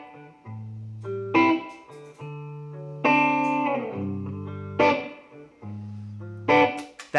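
An electric guitar plays a repeating looped phrase of chords and single notes, each treated with reverb and a delay trail. The phrase cycles about every two seconds, clear and close, with no talking.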